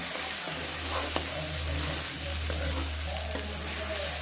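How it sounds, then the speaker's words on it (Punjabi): Eggs sizzle in a hot pan for an egg and peas curry. They are stirred lightly, giving a loud, continuous frying hiss with soft scraping strokes throughout and no talk. "ਅੰਡੇ ਨੂੰ ਪਾ ਕੇ ਫਿਰ ਆਪਾਂ ਹਲਕਾ ਜਿਹਾ ਹਿਲਾਵਾਂਗੇ"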